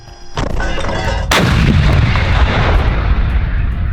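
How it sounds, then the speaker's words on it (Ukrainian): A single huge Leopard 1 tank cannon blast erupts suddenly, fired at a 1,000-metre target to test the gun, followed by a long rolling boom and rumble that fills the rest of the clip. "Ми стріляли на тисячу метрів. Це робиться для перевірки гармати."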